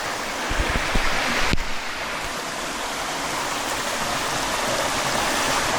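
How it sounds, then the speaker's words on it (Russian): Water pours steadily out from under a metal grate near a pipeline on a Philippine mountain trail, a continuous broadband rushing close by, with a brief louder burst near the start. "А вода идет, смотрите, вот оттуда, из-под решетки."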